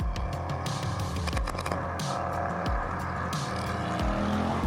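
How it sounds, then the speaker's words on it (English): A 2012 Porsche Panamera on the move, heard from inside as a steady low engine and road rumble with occasional faint clicks and rustles over it. "Now it's time for us to drive a Porsche."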